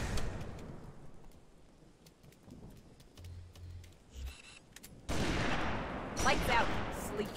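Scattered gunshots from sniper rifles in a Halo 3 ODST Firefight match, sharp reports over a low rumbling game backdrop, with heavier layered combat noise swelling near the end.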